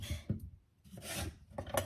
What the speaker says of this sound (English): Just chopping the veggies up.